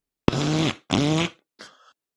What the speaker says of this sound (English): like this farting noise